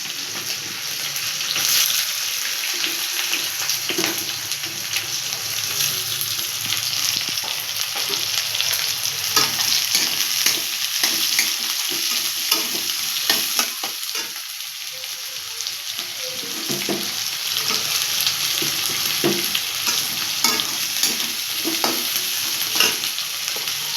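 Onions and green chillies fry in a hot pan with a bright continuous sizzle, close and loud, while a spatula stirs and scrapes through them in frequent bursts.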